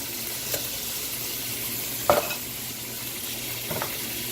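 Organic diced tomatoes sizzle gently in a hot pan under a steady hiss, broken by three scraping stirs, the loudest sharp clack of a utensil against the pan in the middle.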